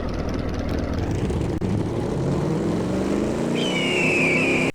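A car engine starts up in a car-building video game, a loud, steady synthetic engine drone. The pitch rises slowly, and a high whine comes in near the end. No one speaks.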